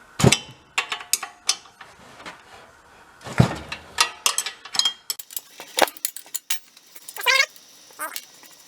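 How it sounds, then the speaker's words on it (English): Ratchet clicking in short irregular bursts while unbolting the air cleaner from a Corvair engine in a Monza SS go-kart, close and sharp with metallic tool clatter and pauses between strokes. "Or we just unbolt it, right where the bolts are."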